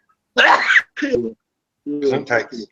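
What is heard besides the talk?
sneeze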